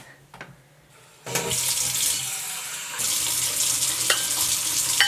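Tap water runs into measuring cups in a kitchen, a brief clink first, then a steady close rushing stream that grows fuller partway through, with no talking.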